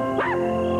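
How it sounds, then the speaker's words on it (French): A single short, sharp dog bark in a 1988 animated tale, heard alone over a steady tonal background. "Aboie, mon chien, aboie plus fort."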